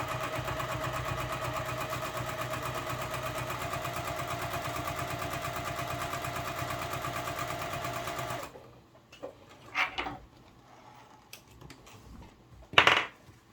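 A sewing machine stitching a zipper seam with a zipper foot on a business bag: fast, even mechanical whirring for about eight seconds, then it stops, leaving quiet handling clicks and a sharp rustle near the end.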